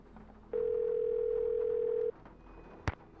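A steady dial tone from a telephone in a Nancy Drew computer game, Legend of the Crystal Skull, holds level for about a second and a half, then stops, followed by a brief click of the call going through.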